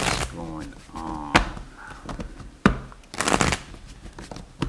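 Crisp riffle bursts of cards being shuffled, a few separate flurries with soft thumps between, under a person talking.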